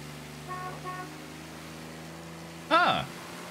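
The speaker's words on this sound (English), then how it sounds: "Ah, they react to my honks." A single short car horn honk in Mafia 1, fairly loud and brief near the end, after faint tonal beeps and over a steady engine drone.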